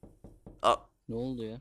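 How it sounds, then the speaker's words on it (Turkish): Door knock or slam sound in the Roblox game The Survey: three soft taps, then one loud sharp hit, followed by a person laughing and talking. "O kapı sesi nereden geldi ya?"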